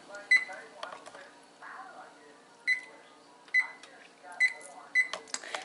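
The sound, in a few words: oven control beeping while being set to preheat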